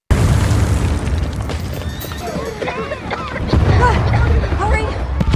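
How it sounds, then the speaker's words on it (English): A loud, sustained booming rumble from a gold mine explosion near the village of Rose Creek fills the scene, with shouting voices rising over the roar. "there is a sudden explosion from a gold mine"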